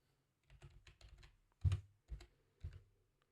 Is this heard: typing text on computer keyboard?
yes